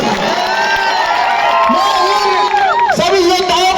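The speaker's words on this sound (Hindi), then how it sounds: "आप इनके लिए एक बार जोरदार तालियां बजाइए।" At an outdoor political rally, a large crowd cheers loudly with whoops and high whistling shouts, and some clapping is mixed into the steady roar.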